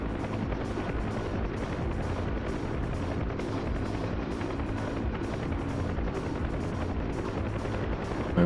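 Military helicopter in flight in DCS World, a loud constant rotor drone with fast regular blade thumping under a steady turbine roar, continuous and close, no speech.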